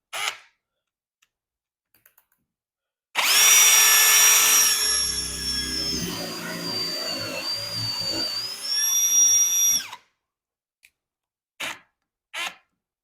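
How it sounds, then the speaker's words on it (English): A power drill whirs for several seconds, a high motor whine that rises and dips in pitch, with a few short clicks before and after. "Attach my drill."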